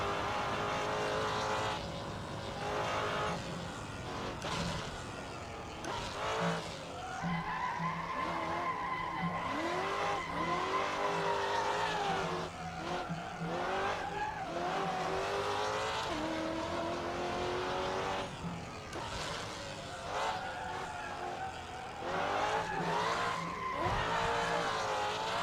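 High-revving car engine screaming through a drift in the Assetto Corsa racing game, from the Dream Pack 3 cars, loud and continuous with rising and falling pitch sweeps and tire squeal over roughly twenty-five seconds, without talk.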